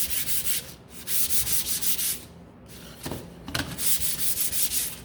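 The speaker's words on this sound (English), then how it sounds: "This is dry, so I'm going to give it a quick sand." Sandpaper rubbed briskly over a dry painted wooden pallet sign, a steady run of rhythmic scratchy back-and-forth strokes, loud and close, with a short pause midway.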